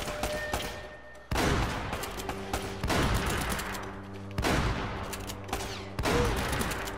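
Shotgun blasts ring out in an Uncharted gunfight, four loud sharp bursts spaced a second or two apart, each with a long echoing tail.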